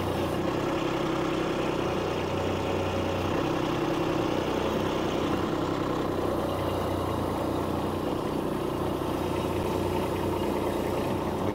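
A tractor with a front bucket and four-wheel drive pushes itself out of a steep ditch, its engine a steady, loud, unbroken rumble running throughout.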